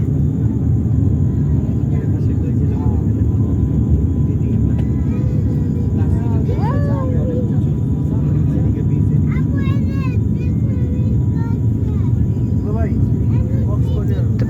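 Steady, loud airliner cabin drone during a flight over the sea near Cox's Bazar, a continuous low rumble under intermittent nearby talking.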